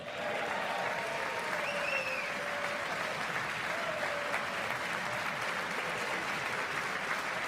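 Sustained applause from a large audience filling the chamber during a State of the Union address, a steady dense wash of clapping at even loudness throughout with no pauses.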